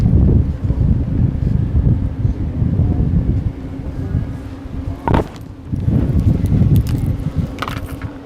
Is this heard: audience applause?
no